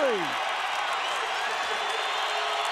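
Basketball arena crowd roars during a Lakers vs Nuggets playoff game, a loud sustained wash of cheering and noise under an announcer's voice, with a brief falling whistle-like tone at the start.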